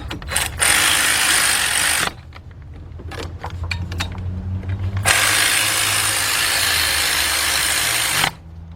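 A 3/8-drive cordless impact tightens bolts on a Ford Fiesta engine during head gasket and timing belt work, two long loud hammering bursts with short clicks and rattles between them, close up.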